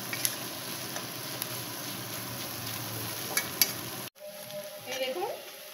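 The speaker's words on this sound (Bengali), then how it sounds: "আর এর মধ্যে চার কোয়া রসুন কুচি করে রেখেছিলাম, ওটাও দিয়ে দিলাম। দিয়ে এটাকে একটু ভাজা ভাজা করব" Chopped garlic fries in a pan with a constant close sizzle and a few light utensil taps, then the sound drops suddenly to quiet with faint clinks.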